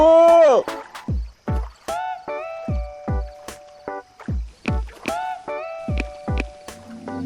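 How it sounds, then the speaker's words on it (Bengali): A cartoon rowing boat comes across the water on a rainy day. Steady rhythmic splashy oar strokes sound under bright tonal musical notes. "ওই তো একটা নৌকা আসছে, মাঝি ওপারে যাব।"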